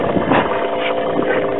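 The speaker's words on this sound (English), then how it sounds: "You can just hear the pump running." A Webasto heater pump runs on a Sno Cat snow vehicle in Antarctica, a loud, steady close whirring rumble with no breaks.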